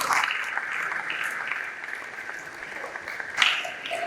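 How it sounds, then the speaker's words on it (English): Audience applause at a tech community event, a steady wash of clapping from a crowd with a brief louder swell near the end. "And then round of applause for me"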